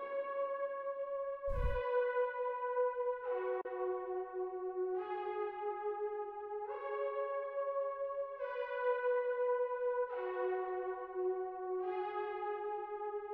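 A bright synth lead in FL Studio 20 with no effects plays a repeating melodic pattern of sustained, harmonically rich notes, dry and clear with no talking, opening with a low thump.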